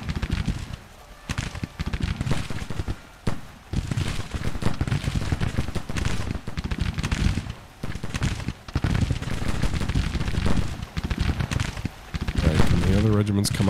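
Civil War musket volleys crackle in a Grand Tactician battle, scattered pops and rattling bursts at varying distances under nearly constant talking, with chirping birds and a denser cluster of firing near the end.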